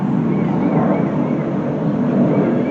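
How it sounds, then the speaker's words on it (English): Steady broadband jet aircraft roar fills the background outdoors at a camcorder recording spot, a continuous loud rushing drone with no breaks and no voices. "You probably hear the jet noise in the background."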